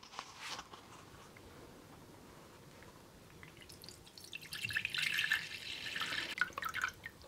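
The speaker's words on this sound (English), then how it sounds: "I'm going to strain it out. So I'm putting it into this bowl. I have a funnel with some muslin in it." Herbal tea strains through muslin in a funnel into a bowl, starting with a brief pour and then a faint trickle that grows into a louder, steadier stream of dripping liquid near the end.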